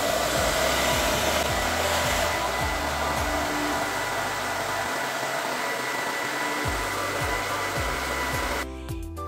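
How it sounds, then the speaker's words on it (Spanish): A hair dryer blows hot air onto a doll, a loud, close, steady whoosh that runs without pause and then cuts off at the very end. "Y como lo tengo más a mano el secador, pues lo hago con el secador."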